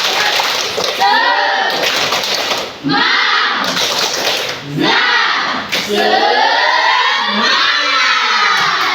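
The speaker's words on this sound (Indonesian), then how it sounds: "mari kita melakukan ice breaking. Tepuk semangat." A class of children performs a rhythmic group clapping chant as a classroom ice breaker, bursts of shouted chanting and clapping repeating in close, energetic waves with brief gaps between phrases.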